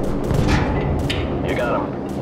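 A gunship cannon round fires and booms in Call of Duty 4, a short heavy blast with a rumbling tail, mixed with game radio chatter.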